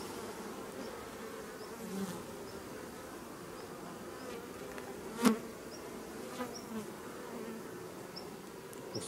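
A steady, dense buzz of many honey bees around an apiary hive during a summer inspection, forming a continuous hum with occasional closer passes and faint handling knocks.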